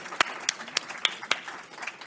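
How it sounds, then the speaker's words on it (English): Audience applause after a panel session at a hunger and malnutrition conference, fairly faint and thin, with several sharp isolated claps standing out over a light patter of hands. "Let's have a big round of applause for this panel, as well as the two previous panels."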